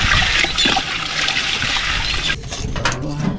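Water pours or trickles steadily and close by, a broad wash of splashing that shifts in tone near the end, with some faint background talk around it.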